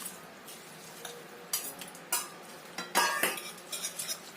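Spoon stirring a potato and sago pearl pudding mixture in a pot, with a run of irregular clinks and scrapes that grow busier toward the end, close and fairly quiet with no talk.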